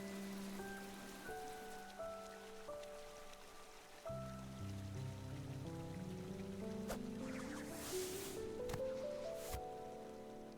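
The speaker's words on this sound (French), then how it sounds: "en fait il pleut alors qu'on est sous terre" Steady soft rain patters underground in the video game Hollow Knight, a continuous hiss beneath layered synth and orchestral music that swells in the second half, with no talking.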